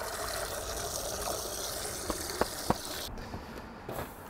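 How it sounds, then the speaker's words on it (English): Water from a spring is poured into a pot as a steady rushing trickle, with a few brief clinks near the middle. "So I'm just gonna get some water from my spring."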